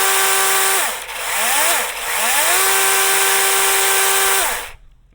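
A DeWalt XR 20V cordless electric chainsaw runs loud and close for about five seconds, its whine dipping twice briefly before rising steady again and then cutting off sharply, with no talking.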